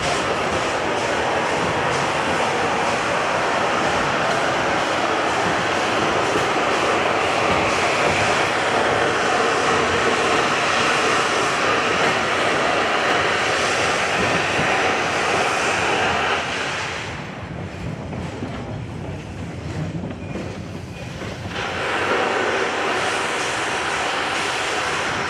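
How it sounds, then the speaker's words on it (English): A steam locomotive's boiler blow-down valve at Roaring Camp in Santa Cruz jets water and steam under 200 pounds of pressure: a loud, steady roaring hiss that dips briefly near the end and then surges back. "When our fireman Donnie opens up this blow-down valve, it lets a whole bunch of water and steam jet out of the side of the boiler"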